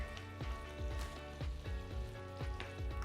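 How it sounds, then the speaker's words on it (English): Garbanzo beans fry in olive oil with a steady sizzle, while a utensil stirs and scrapes them in quick, regular strokes close by. "we're just going to kind of keep stirring them until they're a nice brown sort of caramelized color"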